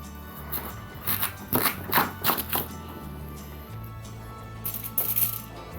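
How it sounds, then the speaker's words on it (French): Knife slicing sweet potatoes into strips on a cutting board, a run of sharp close chops in quick bursts with short pauses between them, no talking. "il va falloir les découper à moitié, en lamelles"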